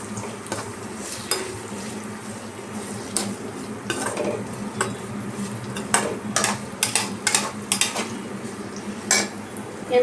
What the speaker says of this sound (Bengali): আচ্ছা, এবার আমি ভালো করে এটাকে একটু কষিয়ে নেব।